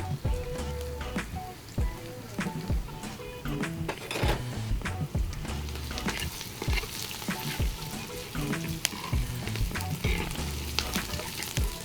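Curry leaves and chillies sizzle and spatter in a hot pan for an eggplant kulambu, with steady frying hiss, frequent crackles and occasional utensil clinks as the pan is stirred.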